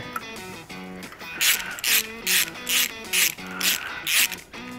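Ratchet snugging up bolts on a 6.0L LS engine during an intake, cam and heads swap, with a run of loud, close, rhythmic clicking bursts repeating about twice a second.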